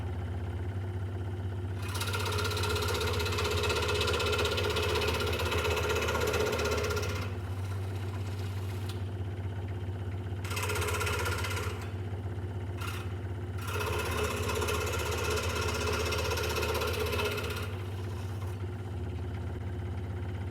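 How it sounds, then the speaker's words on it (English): A scroll saw with a small, fine blade runs in a workshop, a steady motorized buzz with a rhythmic reciprocating chatter, loud and close, cutting in three bursts separated by brief pauses, with no talking. "a scroll saw will do a lot smaller, finer cuts compared to a bandsaw"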